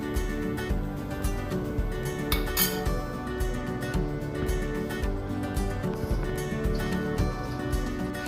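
Spoon stirring tomato curry with carrot and brinjal in a metal pot, giving repeated scraping and clinking strokes in an uneven rhythm, close and moderately quiet.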